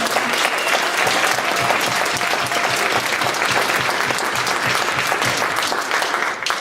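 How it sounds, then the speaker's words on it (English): A high school band concert audience gives a round of applause, a loud, dense and continuous clapping that fills the hall steadily for several seconds before easing off at the end. "can we give a round of applause for Mr. Smiley for helping us?"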